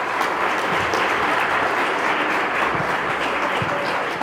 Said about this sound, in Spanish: Dele un aplauso fuerte a Jesús